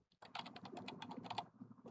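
Quick bursts of typing on a computer keyboard, a rapid run of distinct key clicks for about a second and a half, close and clear in a quiet room.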